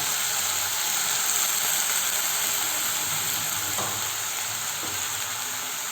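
Onions, tomato and brinjal sizzle steadily in a frying pan, a constant close hiss of frying with a couple of faint clinks of a utensil near the end.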